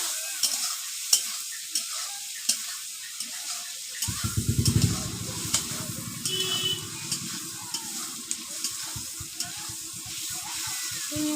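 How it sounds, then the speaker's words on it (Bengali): Turmeric fries and sizzles in a hot pan, with a spatula stirring and scraping in bursts of clatter, the frying hiss steady throughout and a louder stirring stretch midway. "হলুদ ভালো করে ভেজে নেবো"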